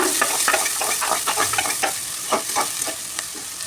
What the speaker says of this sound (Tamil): வெங்காயம் கட் பண்ணி வச்சுருக்கேன் குட்டி குட்டியாக, அதையும் போட்டுக்கலாம். நல்லா வதக்கி விட்டுக்கணும்.